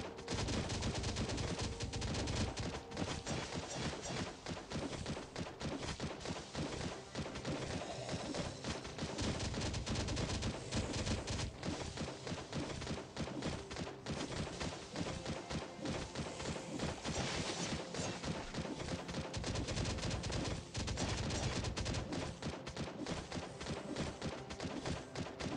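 Rapid automatic fire from a mounted turret shooting at zombies in the survival game Last Day on Earth, a dense, loud, unbroken stream of shots running nearly the whole time with no pauses.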